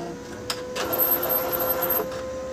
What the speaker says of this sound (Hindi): प्रिंटर को ऑफ करने के बाद फिर से यहाँ पर मैं प्रिंटर को पावर लगाता हूँ